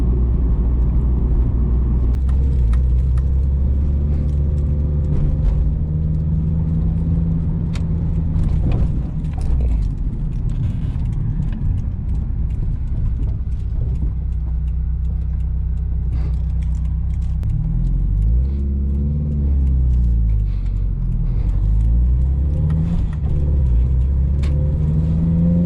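Steady low engine drone and road rumble inside a Subaru Impreza WRX STi Ver.9 cruising in sixth gear at about 70 km/h, constant and close with faint cabin rattles, no one speaking.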